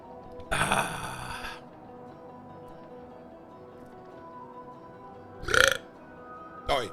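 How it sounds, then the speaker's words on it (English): Loud burps during a Factorio gaming session: one long drawn-out belch near the start, then two shorter burps later, with quiet background in between. "don't burp."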